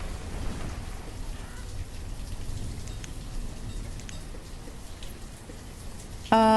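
Steady downpour in the city-building game Banished, a continuous wash of rain hiss with faint low rumble underneath, ending in a brief bright tonal blip at the close.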